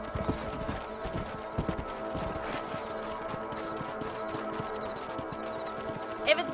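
Horse hooves clip-clopping steadily in the Red Dead Redemption video game, a loping rhythmic gallop at moderate volume over game ambience and music.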